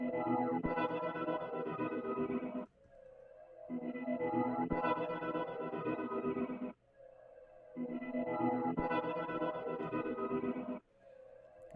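A guitar part and a textural pad layered together in an Ableton beat, played back as a looping phrase with effects-laden sustained tones that stop briefly every few seconds before repeating.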